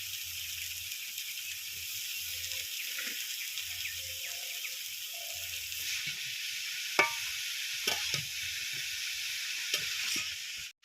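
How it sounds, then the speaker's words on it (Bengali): Cabbage and tomato going into a frying pan with already-fried vegetables for a cabbage ghonto, a steady soft sizzle with intermittent stirring scrapes and a few sharper clicks, fairly quiet and without talk. "বাঁধাকপি আর টমেটো একসাথে দিয়ে দিচ্ছি।"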